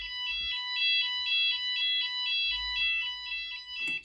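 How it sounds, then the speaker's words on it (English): During a test of a key-switch fire alarm panel, a fire alarm sounder gives rapid, repeating electronic pulses in a steady, even rhythm. It sounds close and clear against a quiet room, and a click and rustle come at the end. "So you can set the alarms off."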